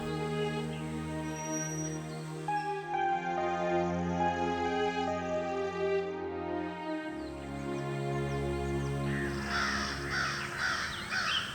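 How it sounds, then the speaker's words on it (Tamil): A flock of crows caws over a layered musical score in a Tamil kids' animation; harsh calls come in bursts near the end, partly masked by the steady music. "வழக்கம் போல வந்து இறங்கின காக்காங்களோட கூட்டம்"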